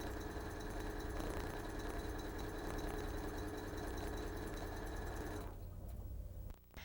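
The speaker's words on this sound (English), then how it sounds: "The stitch information will now be sent to the sewing machine." A computerized sewing machine runs steadily, stitching a pattern with a continuous whirring hum and rapid needle rhythm, fairly close and alone, before stopping abruptly near the end.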